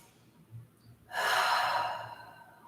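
During a beginner yoga session, a person draws one long, audible breath, a soft airy rush lasting about a second after brief quiet.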